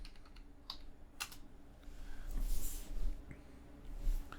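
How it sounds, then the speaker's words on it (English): Fingers tap on a computer keyboard entering a search, a quick irregular patter of soft keystrokes close up, fairly faint against a low room hum. "So I'm going to type Tom Hanks in again."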